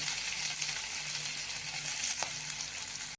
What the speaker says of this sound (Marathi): आपला मसाला छान परतायलेला आहे